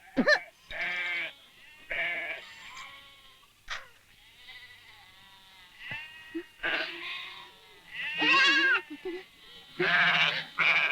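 Goats bleat repeatedly in a rural village scene, loud nasal cries coming one after another with short pauses between them, close by and clear.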